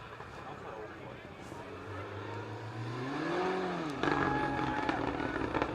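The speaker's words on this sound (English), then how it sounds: "I'm hearing a car now in the distance, rapidly approaching us" A rally car on special stage 13 at Mishnish Lochs rises from far off and sweeps closer, its pitch climbing then dipping as it revs with the clutch slipping slightly, growing louder toward the end.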